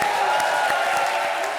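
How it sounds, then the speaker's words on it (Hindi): Audience applause for Sonu at a stand-up comedy show, a steady dense wash of clapping and crowd noise at moderate level throughout, with no clear speech over it. "खैर एक बार सोनू भाई के लिए जोरदार तालियां।"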